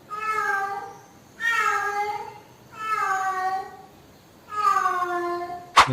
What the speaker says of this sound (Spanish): Esas son las gatas en celo